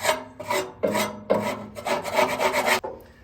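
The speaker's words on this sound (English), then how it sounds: "scraping away from the burn pot" Rough rasping strokes scrape caked gunk away from the burn pot of a Lone Star Grillz pellet smoker, several close, uneven scrapes in quick succession with no voice.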